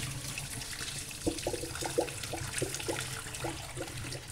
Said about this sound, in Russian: Сливаю из кастрюли бульон.